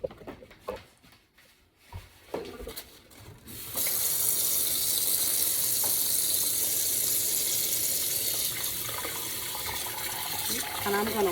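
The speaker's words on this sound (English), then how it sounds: "And I'm gonna wash this until it's nice and clear, the water." Cut pork roast being rinsed under a running kitchen tap in a sink, with a steady loud rush of water starting after a few quieter seconds of handling and splashing.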